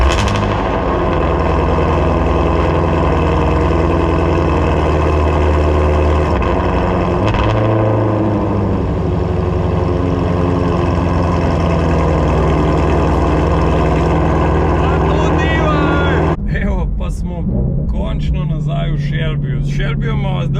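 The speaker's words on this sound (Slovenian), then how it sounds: "da slišimo tale cold start od Shelbyja" The Shelby car's engine runs loud and close at a steady, rumbling idle after a cold start, then changes character near the end. Someone speaks over it briefly.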